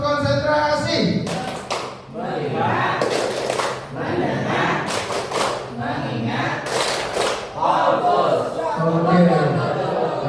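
Rhythmic hand clapping in a group concentration game during a teaching workshop, with bursts of claps between chanted counting from a group of voices and louder thumps near the end.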